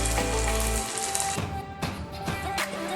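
Ginger and garlic fry in hot oil, a soft, continuous sizzle with a few sharp crackles and taps scattered through it, fairly quiet, with a low rumble fading away early on.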